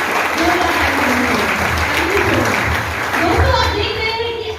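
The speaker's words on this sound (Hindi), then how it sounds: "मैं चाहूंगी जोरदार ताली मेरे सिस्टम अपलाइन को जोरदार ताली" Loud, steady applause from a large audience at a Safe Shop India training session in Patna, dense clapping sustained throughout with faint voices underneath.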